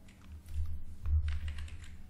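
Computer keyboard keys, arrow keys used to nudge a layer in Photoshop, tapped repeatedly at close range in a quiet room with low background hum.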